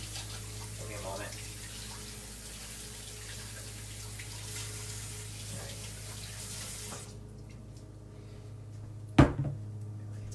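Tap water runs steadily into a sink while a spill is rinsed off, a moderate continuous splash that cuts off partway, followed by quiet and a sharp knock or clatter near the end.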